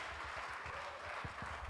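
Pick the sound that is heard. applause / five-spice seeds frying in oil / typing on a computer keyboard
applause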